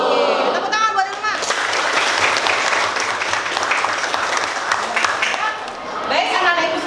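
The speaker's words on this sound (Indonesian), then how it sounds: "tepuk tangan buat Ilma" A classroom of schoolchildren breaks into loud, sustained applause for a student named Ilma, many hands clapping together in a dense burst, with a teacher's voice speaking briefly at the start and end.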